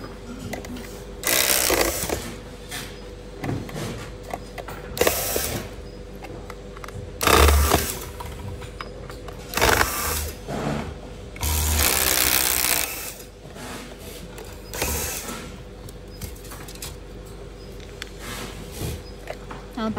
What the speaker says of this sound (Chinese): 先把带的断路器这边的面板上的螺丝取掉。